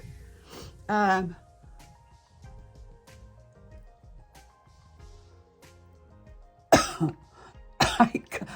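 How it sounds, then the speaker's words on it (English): A single sharp cough near the start, then quiet rustling and small handling noises, followed by two more coughing or throat-clearing bursts near the end. "as I cough, I got it"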